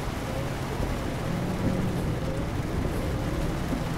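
Steady broadband patter of rain in Euro Truck Simulator 2 runs throughout, dense and even, with a low rumbling truck hum underneath and no voices.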